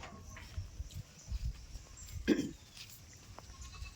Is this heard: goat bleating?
yes